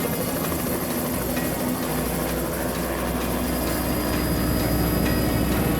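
A helicopter flying overhead, a loud continuous rotor and engine drone with a steady beating texture throughout and no talk.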